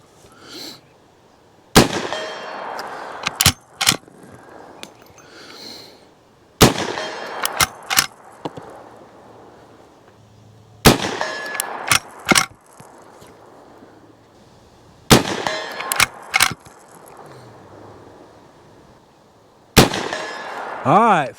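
An Uberti Cimarron 1873 lever-action rifle fires .357 Magnum rounds at steel targets 75 yards away outdoors: five sharp, loud shots spaced several seconds apart, each followed by lever-action clicks and faint distant ringing of steel.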